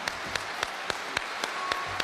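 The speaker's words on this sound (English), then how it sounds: "Let's receive him with a warm round of applause" A crowd welcomes Louis Farrakhan with applause at his speaking event: a steady wash of clapping punctuated by strong, evenly spaced synchronized claps, roughly four per second, with no voices over it.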